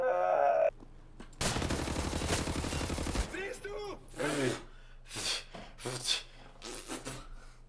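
A burst of rapid automatic gunfire in the video game Wolfenstein: The New Order rattles for about two seconds, followed by scattered shots and effects, with a person reacting vocally.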